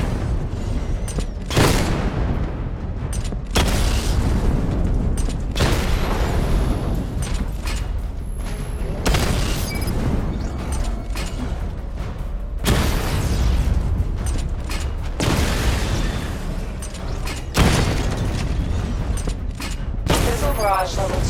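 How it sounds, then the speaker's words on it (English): Missile barrage explosions from Batman: Arkham Knight, a dense run of loud booms and bursts repeating throughout, layered with mechanical game effects and occasional voice. "Charge the missile barrage to level 2 to destroy up to 4 targets at once."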